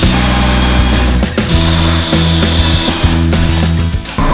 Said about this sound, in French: je prends la visseuse, mèche Zobo